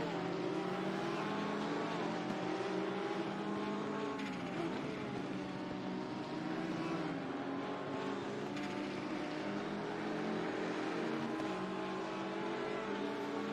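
Race cars roar around the Kyalami circuit in a sim racing game, including a Porsche, their engines holding a loud, steady, layered whine with shifting pitch throughout as several cars run close together.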